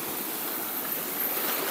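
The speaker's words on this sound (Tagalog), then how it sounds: "Medyo malakas yung alon." Strong sea waves washing against the shore, a steady broad roar of surf close by with no breaks, heard alone without voices.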